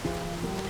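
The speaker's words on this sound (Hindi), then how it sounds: "इतनी बारिश हो रही है" Heavy rain falls in a steady, dense hiss, close and even throughout a brief moment with no voices.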